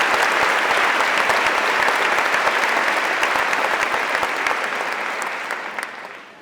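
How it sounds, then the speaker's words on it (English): A large audience at an evening event in Sioux Falls gives the sponsors sustained, dense applause, steady and loud throughout before tapering off slightly at the end. "Please all join me in giving them a round of applause."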